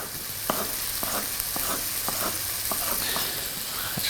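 Turkey mince fries in a pan over medium-high heat, giving a steady close sizzle with light scraping and stirring clicks roughly every half second, no voices.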